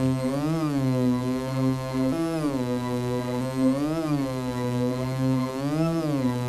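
A bright, buzzy wonky-beat synthesizer lead plays a wobbly melody with sliding, bending pitches, loud and alone with nothing else underneath.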